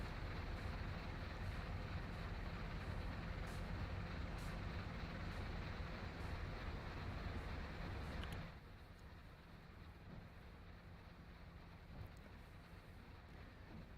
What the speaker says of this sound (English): if you listen really carefully, you can hear the compressor running